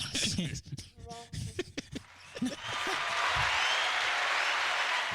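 Voices talk at first, then a burst of applause rises and holds steady as a crowd claps together.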